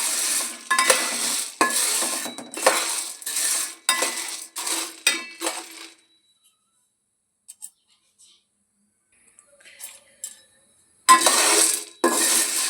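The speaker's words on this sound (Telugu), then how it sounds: "మంచిగా శనగలు వేయించుకోవాలండి" Chickpeas (chana) roasting in a pan are stirred in bursts of scraping, rattling clinks for about six seconds, then go quiet apart from faint ticks before the stirring resumes loudly near the end.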